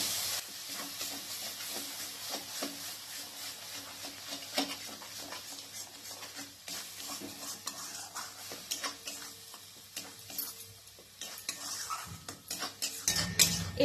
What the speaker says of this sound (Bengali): এরপর ততক্ষণ পর্যন্ত টমেটো বাটাকে ভালো করে কষাতে হবে